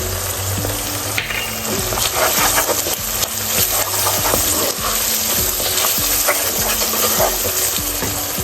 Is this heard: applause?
no